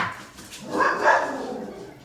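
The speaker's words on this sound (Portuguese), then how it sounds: "vocês vão escutar barulho de cachorro" A dog barks indoors at home, a few rough, moderately loud barks and yelps rising in the middle of the span against faint room noise.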